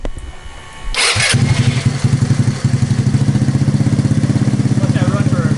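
A GY6 scooter engine cranks and catches, then settles into a steady, close-up idle with a rhythmic putter.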